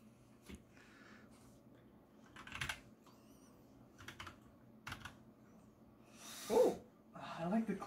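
Keys clack on a Hollow Knight themed mechanical keyboard in scattered, uneven bursts of quiet clicks, with short pauses between the typing runs.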